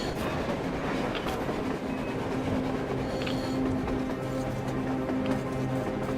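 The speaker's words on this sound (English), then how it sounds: "A train! A damn train on the surface!" A train running above ground in the game Metro Exodus rumbles with a steady drone and faint rhythmic clatter at moderate distance, with tonal hums layered under it.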